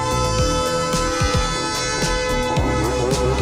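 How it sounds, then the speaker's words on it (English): Scooter engine fitted with a Stage 6 Overrange kit revving hard and high, a loud continuous buzzing drone with rising and falling pitch sweeps and wind rush throughout. "It might be over revving a little bit."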